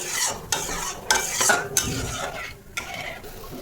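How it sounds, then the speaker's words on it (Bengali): Fish curry masala for a doi katla dish gets stirred in a pan, with scraping spoon strokes and clinks over a soft sizzle, close and without talk. "ভালো করে মিশিয়ে নেব।"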